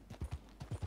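Horse-drawn carriage hooves clip-clopping in the Red Dead Redemption 2 video game, a quick run of about six clear, close hoof strikes in an uneven rhythm with no voices.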